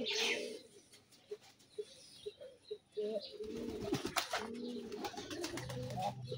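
Pigeons coo outside a pigeon house under construction, soft rhythmic coos repeating at close range with a few short chirps and a faint rustle, no one speaking.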